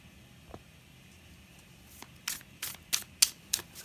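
Quiet rustling, then a run of five or six crisp riffles of a tarot deck being shuffled in a steady rhythm, close by with no talking.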